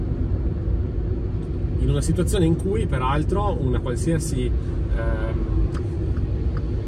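A Volkswagen e-Up electric car climbs a mountain road, giving a low, steady road and tyre rumble that runs beneath someone talking throughout.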